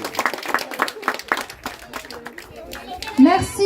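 Children and an audience at an elementary school event clap in a scattered, moderate burst, with children's voices and chatter mixed in and fading toward the end.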